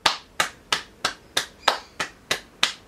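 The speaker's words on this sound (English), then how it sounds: "Let's give it a round of applause." A single person claps slowly and evenly, nine sharp claps in a steady rhythm, close and crisp with no other sound.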